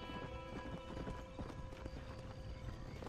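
Horse hooves clip-clop at a gallop in Red Dead Redemption: Undead Nightmare, a steady loud rhythm with a whinny among dense game music and effects, continuous throughout.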